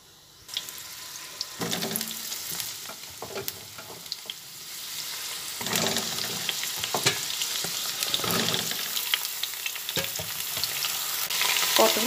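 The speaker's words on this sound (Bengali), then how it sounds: "সেই সময় আমি কিছুটা পটল তেলের মধ্যে দিয়ে ভেজে নিচ্ছি।" Pointed gourd (potol) frying in hot oil in a kadai, a continuous crackling sizzle that swells and fades with stirring and occasional utensil knocks, rising louder toward the end.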